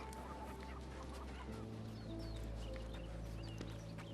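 A chicken clucks in the Sherlock Holmes Chapter One video game, short faint clucks over a steady, droning ambient bed of outdoor game sound.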